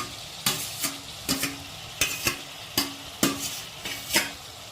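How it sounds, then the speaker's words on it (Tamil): Capsicum stirred in a hot pan with ginger for purple cabbage rice: rhythmic scraping strokes, roughly ten in pairs, over a steady frying sizzle, close and moderately loud. "கேப்சிகம் போட்டு ஒரு கலர் கலரிடுவோம்."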